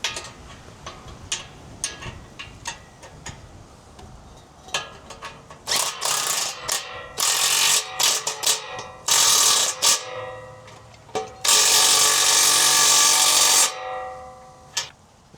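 A battery-powered ratchet tightens exhaust mid pipe bolts on a diesel truck, beginning with scattered clicks and then whirring in several loud bursts, the longest near the end.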